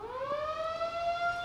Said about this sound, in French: Lorsque retentit la sirène